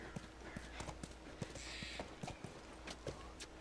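Hooves of a horse clip-clop at a steady walking rhythm in the video game The Last of Us Remastered, close and distinct over a faint background bed, with a brief airy hiss midway.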